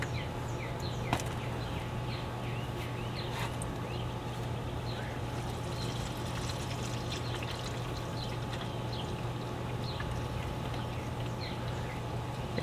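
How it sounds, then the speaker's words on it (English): Oil drains from a Toyota 4Runner with a 3.4L 5VZ-FE engine in a steady, faint pour and trickle that continues throughout, with a few light clinks and soft background noise. "And now we'll just let it all drain out."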